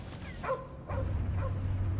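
A dog, Cosmo from the Guardians of the Galaxy video game, gives three short yipping barks in quick succession over a low rumbling game background.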